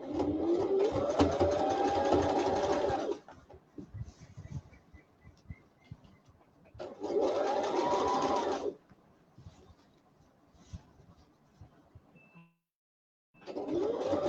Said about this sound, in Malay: Kita keluarkan dia punya jarum.